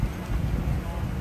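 Outdoor wind buffets the microphone at Great Race coverage in Nocona, Texas, a brief, loud, low rumbling gust with no clear speech.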